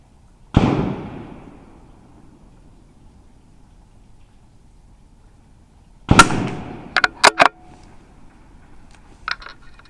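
Three to four sharp .22LR rifle reports ring out at an outdoor shooting range, one alone near the start and a tight cluster later, each loud and close with a short decay between quiet gaps.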